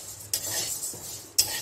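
Dal lentils being stirred and dry-fried in a pan, with two sharp scraping strokes of a utensil over a soft continuous sizzle, close and fairly quiet, no talking.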